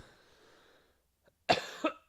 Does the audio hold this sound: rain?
no